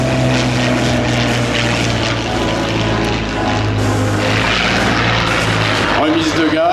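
A Yakovlev Yak-3 propeller fighter at the Biscarrosse air show powers up for a go-around, its piston engine roaring loud and steady throughout with a deep, constant drone.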